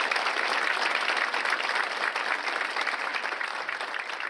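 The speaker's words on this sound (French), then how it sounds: "Un applaudissement pour le Seigneur." A congregation at a Bible study in Naples, Florida, applauds steadily for several seconds in a sustained, even round of clapping with no break or pause.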